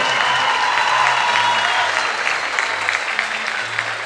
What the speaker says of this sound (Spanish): Que se escuche ese aplauso.